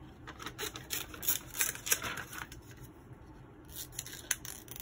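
Scissors snipping through paper while cutting out pieces for a scrapbook page, a series of quiet close crisp snips with small pauses between.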